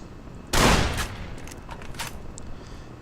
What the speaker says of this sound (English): So this is the conventional caravan shotgun.